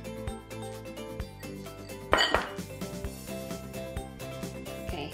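A spatula scrapes and knocks against a bowl while eggs are mixed into chocolate banana muffin batter, steady clinks and taps at close range with one louder clatter midway, no voices.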